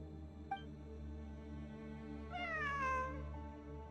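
A single cat meows once in Genshin Impact, a rising-then-falling mew heard fairly clearly over a steady, low ambient game hum. Before the meow there is only the quiet background drone.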